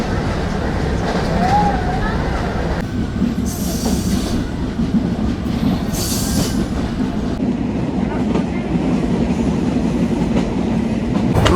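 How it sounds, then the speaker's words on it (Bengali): A Down Mongla commuter train, running between Mongla and Benapole, stands at a distance at Jessore junction. Steady rail rumble and clatter continue through the whole stretch, with a brief hiss twice and voices murmuring underneath. "এ পাশে দেখতে পাচ্ছেন দূরে দাঁড়িয়ে আছে ডাউন মোংলা কমিউটার ট্রেন"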